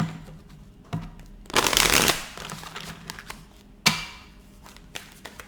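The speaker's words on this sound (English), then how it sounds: "Last shuffle." Tarot cards are shuffled close up: a burst of riffling flutter, sharp taps as the deck is squared, then a second quick riffle and softer shuffling.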